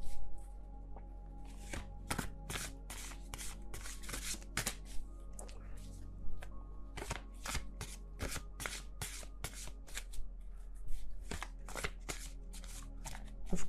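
An oversized tarot card deck being shuffled by hand, close up, with repeated crisp riffling bursts and soft card slaps in an irregular rhythm.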